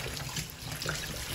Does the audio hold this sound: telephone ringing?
no